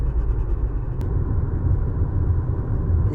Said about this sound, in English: When the wind's catching it and it's flapping and grinding right there.